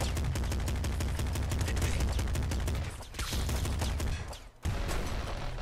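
Rapid machine gun fire from the top-down shooter Nuclear Throne, a loud dense stream of rattling shots with two brief gaps, no talking.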